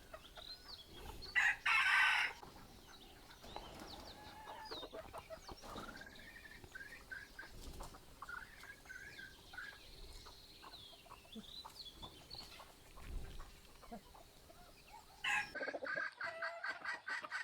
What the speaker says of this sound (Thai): ไก่อายงามเนาะ